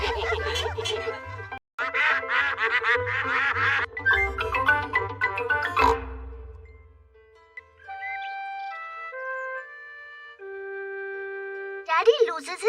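Cartoon ducks quacking in a camping scene, a string of nasal quacks and honks over playful music, followed by a short melodic chime passage and a final burst of quacking.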